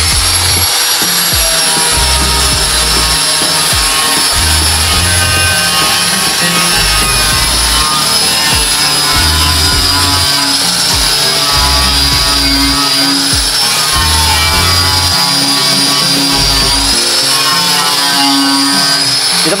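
A wire brush grinder scours a leaking motorcycle fuel tank with a continuous loud, high whine and gritty scraping that rises and dips slightly as it works, close and steady throughout with no talk.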